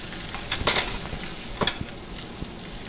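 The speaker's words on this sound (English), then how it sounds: "I just take the pieces like this and just flip them over to make sure the eggs" Veggie fried eggs sizzle steadily in a pan while a spatula flips pieces, giving two clear scraping bursts over the frying hiss.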